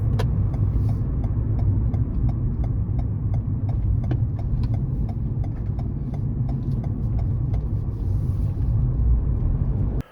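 Car driving along a road while approaching a roundabout and slowing for a speed breaker, heard as a steady, low engine and road rumble from inside the vehicle with faint regular ticking throughout and no talking.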